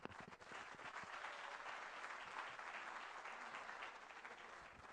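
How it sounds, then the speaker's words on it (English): Conference audience in Banjul, The Gambia, applauding steadily with dense, continuous clapping that holds level throughout, fairly distant and soft. "Big round of applause to the First Lady of Liberia."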